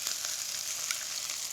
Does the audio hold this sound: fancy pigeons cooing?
no